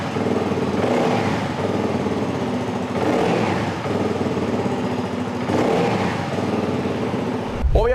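A CFMOTO 250CL-C motorcycle engine rumbles steadily through its exhaust, swelling in a few revs, close and loud, with no talking.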